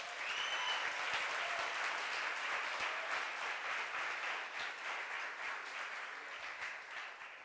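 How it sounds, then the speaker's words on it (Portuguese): An audience claps and applauds during a church service, a dense, sustained patter of many hands that carries on steadily and then gradually thins out, heard alone without talk. "Pode aplaudir Jesus também, gente."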